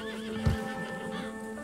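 Horse in the Red Dead Redemption 2 video game gives a short snorting whinny over steady clip-clop of hooves and a constant game-world hum.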